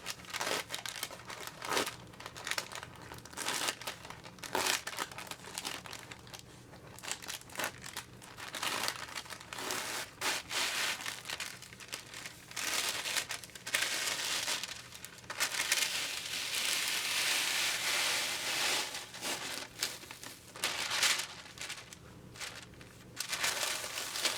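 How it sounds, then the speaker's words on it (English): Parchment paper being peeled slowly off fusible web backing while making book cloth, a long run of close, crisp crinkling and tearing rustles with no talking. "you want to peel the parchment paper off of the fusible"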